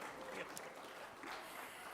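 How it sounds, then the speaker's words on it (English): Audience applause at a BIG C retail brand press meet, a steady crowd clapping at moderate distance for two seconds, fairly quiet and continuous, with no voices rising over it. "Let's hear a round of applause for that."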